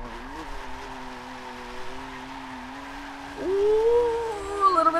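Forza Motorsport 7 car held in a clutch-kick drift, its engine droning loud and steady, then rising as the tires begin to squeal, close and without talk.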